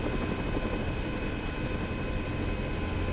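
Helicopter rotors in an ArmA 3 mod give a steady, loud, continuous chopping drone that fills the whole stretch without pause, with no voices over it.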